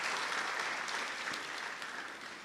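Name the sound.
audience applause for the event committee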